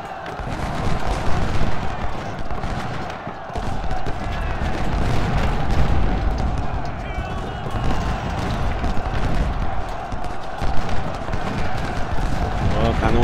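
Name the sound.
cannon artillery fire in video game Ultimate General: Civil War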